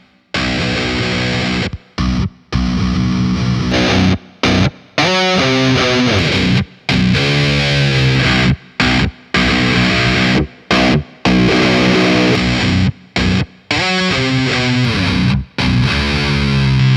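Loud, heavily distorted electric guitar riffs, a DI signal run through amp plugin presets, played in several separate bursts, each with a different crunchy amp tone, broken by brief silences.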